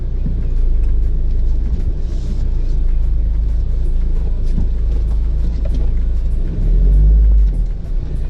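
Mahindra Scorpio pick-up engine running steadily while driving off-road, a loud continuous low rumble close to the cab that swells near the end as the load rises, with no talk over it.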